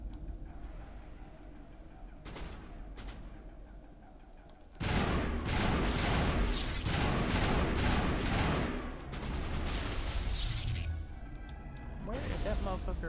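Bursts of rifle fire from the video game Mass Effect Legendary Edition, loud and dense across the second half, arriving in rapid clustered volleys after a quieter stretch with a few isolated shots.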